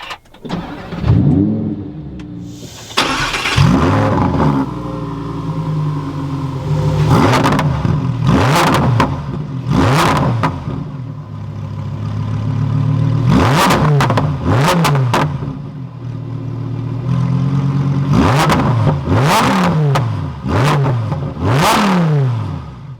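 Lamborghini Huracan EVO RWD V10 starting up, then repeated loud sharp revs rising and falling in quick bursts over a strong idle, close and alone.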